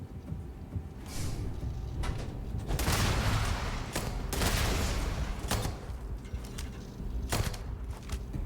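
Turrets in Starfield blast away in repeated loud bursts of gunfire, sharp volleys separated by short gaps, with booming impacts over a rumbling backdrop.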